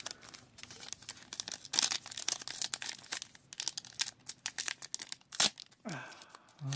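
A 2020 Topps Update baseball card pack wrapper is peeled open close up: continuous crinkling and tearing of the foil, with a few crisp rips.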